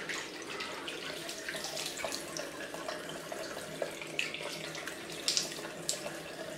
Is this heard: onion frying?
no